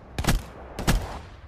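Two sharp gunshots in Black Ops III Search & Destroy, an SVG-100 sniper rifle firing about half a second apart, each a loud crack with a short decaying tail, and no talking.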